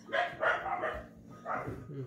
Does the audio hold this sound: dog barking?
yes